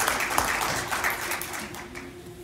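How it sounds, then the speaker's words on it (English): Audience applause at a high school concert, a brief burst of clapping that fades over a couple of seconds. "Can we have another round of applause for our solos"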